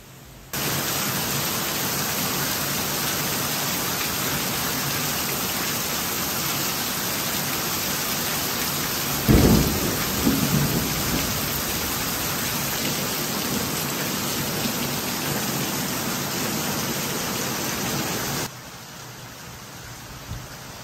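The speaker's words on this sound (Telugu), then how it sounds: "హెవీ రెయిన్ ఫాల్ ఉంది, అసలు పడింది, విపరీతంగా పడింది వర్షం" Heavy rain pours in a dense, unbroken hiss, with a brief low rumble of thunder midway.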